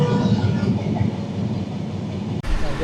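The Sundarban Express rumbles along the rails on the Dhaka to Faridpur run, a steady, close rolling drone heard from inside the train with faint voices beneath.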